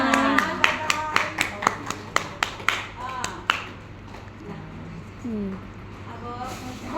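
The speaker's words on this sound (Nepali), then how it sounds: "सबैले ताली गर्नुहोस्" A group claps hands together at a prayer gathering, a burst of sharp, fairly close claps for about three and a half seconds that then stops, leaving voices talking.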